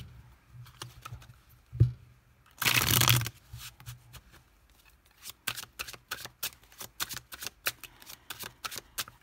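Tarot cards shuffled in one loud riffling burst after a single tap, followed by a rhythmic series of crisp snaps and flicks as six cards are laid out one by one, close and without talk.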